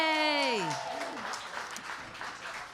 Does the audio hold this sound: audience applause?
yes